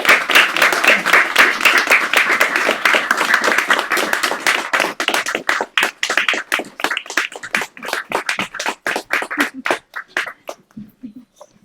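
An audience applauds after a poetry reading. Dense, lively clapping fills the room, then thins into scattered individual claps that fade away, with no voices over it.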